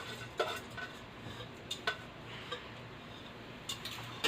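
Chicken biriyani for five or six people being stirred in a pot: soft, faint scraping with a few light metallic clinks of a spoon against the pot's side, scattered irregularly through a quiet kitchen.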